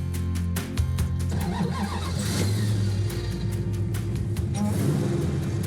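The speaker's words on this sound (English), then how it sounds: "getting ready to take out the Superbird with the Hellcat engine for the first time" A 1970 Plymouth Superbird fitted with a supercharged Hellcat engine turns over, catches and revs, a loud, close, rumbling engine with a rising whine, with brief voices mixed in near the end.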